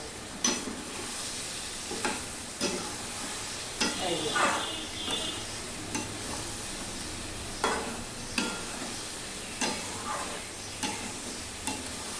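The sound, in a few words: sautéing dried fish and potato curry in a pan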